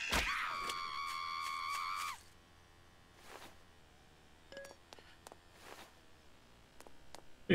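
A scream from the zombie survival game Night of the Dead, set in a hospital area, rings out as a loud, sustained, harmonic cry for about two seconds. Faint clicks and quiet game ambience follow, with no talk.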